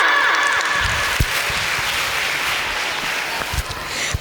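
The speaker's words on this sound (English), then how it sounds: "Give them a big round of applause" Audience applause after a lively performance at a celebration event, a steady wash of clapping held at an even level for several seconds, with a few louder nearby claps standing out.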